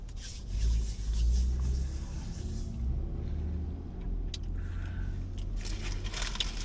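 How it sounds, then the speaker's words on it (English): Diesel trucks roll into a QuikTrip truck stop off an interstate to refuel, a low, steady engine rumble that swells near the start and carries on continuously at moderate distance, with faint scraping and clinks on top. "The trucks are pouring in here to fill up with their diesel fuel"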